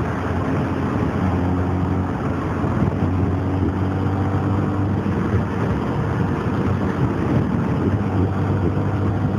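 A Honda Grom MSX125 motorcycle riding at steady speed, its engine a continuous low drone mixed with heavy wind rush over the microphone, loud and unbroken with no talk.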